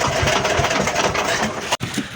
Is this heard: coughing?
no